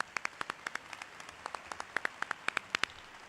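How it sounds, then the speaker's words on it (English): A few scattered, faint claps from a small number of people at a graduation ceremony, sharp separate hand strikes spaced unevenly over a quiet background. "So let's put a little round of applause here on all this stuff"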